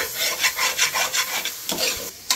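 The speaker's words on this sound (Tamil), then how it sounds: "ஒரு 2 நிமிஷம் நல்லா வதக்கி விடலாம் இதுலயே" Chicken gravy being sautéed in a pan, a spoon stirring and scraping in a steady rhythm of soft rasping strokes over a faint sizzle, close by, with no talk.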